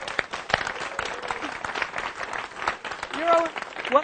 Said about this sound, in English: Now, we're all applauding you.